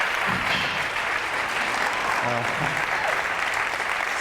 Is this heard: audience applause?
yes